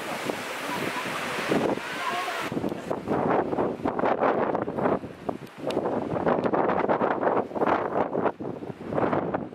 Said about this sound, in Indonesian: ini anginnya cukup kenceng apa gue masuk mobil ya